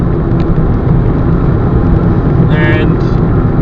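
Steady, loud engine drone and road roar inside a 2009 Toyota Aygo 1.0 cruising at 45 mph, a constant broadband rumble with a voice talking over it.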